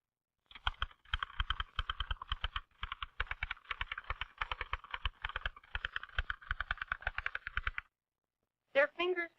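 A vintage typewriter rattles under fast, steady typing, dense close key strikes in quick succession, followed by silence and a brief spoken phrase.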